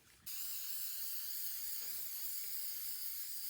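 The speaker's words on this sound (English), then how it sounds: "this is just the spray shellac," Clear shellac sprays from an aerosol can onto furniture in one steady, close hiss that starts abruptly and holds without a break, with nothing else heard.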